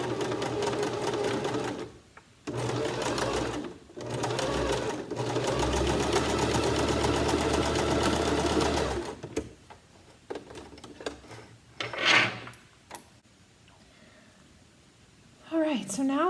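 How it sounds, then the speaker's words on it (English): A sewing machine stitches a T-shirt seam in long rapid whirring runs broken by short pauses, then a brief reverse back-stitch burst near the end, close and loud, with a person talking faintly in places. "place the presser foot down, and go. And back stitch"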